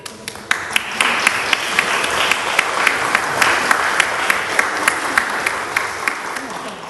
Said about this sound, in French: Nous t'applaudissons, Lucie, pour te souhaiter la bienvenue.